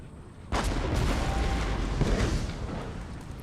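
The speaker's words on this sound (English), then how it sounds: "Right, our cannon are opening up." Cannon fire in Empire Total War, a heavy booming volley that bursts in after a quiet half-second and rolls on as a dense, rumbling barrage of overlapping blasts.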